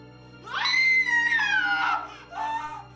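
A hotel employee at an old Japanese inn gives a startled scream of surprise: one loud, sustained, rising-then-falling voiced cry lasting over a second, followed by a shorter second cry, heard alone.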